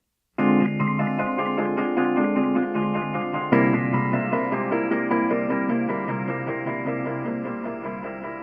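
Electric guitar run through a Ventris Dual Reverb pedal, two loud distorted chords struck in turn, each ringing out with a long, washy reverb tail and no talking.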